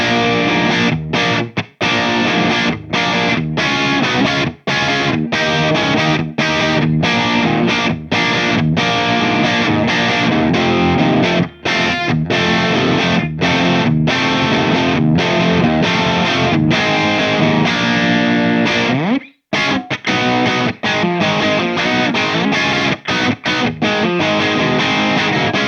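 An electric guitar played through a Mesa/Boogie Recto-Verb or Badlander 25-watt tube amp head, heavily distorted, with dense sustained chords and riffs broken by brief choppy stops, loud and continuous for the whole stretch.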